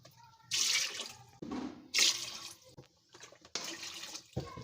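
Water poured from a vessel into a cooking pot of dried apricots while making apricot chutney, in repeated splashy bursts separated by short pauses, close and fairly loud with no talk.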